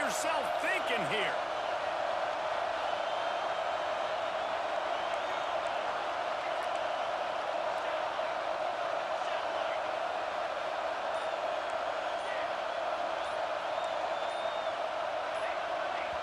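A home stadium crowd roars in the EA Sports College Football 26 video game on third and goal, a dense, loud, unbroken wall of noise that runs the whole time, with a brief crowd burst near the start.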